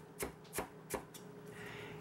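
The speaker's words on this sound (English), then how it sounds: "All we're doing is dicing up some very basic mirepoix vegetables, namely carrots, celery," Three sharp knife chops land at an even rhythm on a cutting board as carrots, celery and onion are diced, close and crisp, followed by a softer chop and light rustling.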